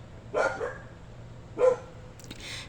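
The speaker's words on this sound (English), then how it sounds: "Sorry, my dogs are barking." Two short dog barks ring out about a second apart, somewhat distant, with a faint yip at the end over a low background hum.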